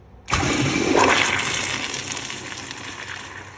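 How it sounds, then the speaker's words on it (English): A toilet flushed by pressing its flush valve, producing a sudden loud rushing gush of water that starts abruptly and continues steadily while slowly fading, heard alone without talk. "we're going to give the toilet one flush. You can press it right here on the flush valve."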